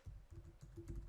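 Typing on a computer keyboard while configuring a Power SCADA IEC 61850 display, a quick, faint run of soft key taps in close succession.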